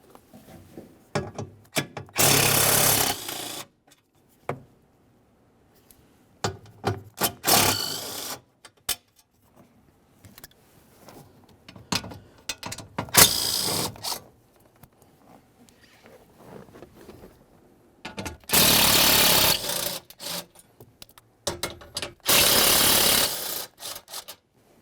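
8mm-headed bolts being worked loose from a metal shield on a 1998-2011 Ford Ranger 2.3L, heard as scattered loud bursts of ratcheting and scraping between quiet pauses.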